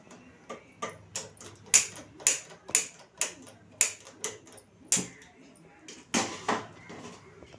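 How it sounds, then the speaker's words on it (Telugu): Gas stove igniter clicking while a burner is lit for a curry, about a dozen sharp, close clicks in an uneven rhythm, loud and alone. "ఇప్పుడు మనం గ్యాస్ వెలిగించబోతున్నాం"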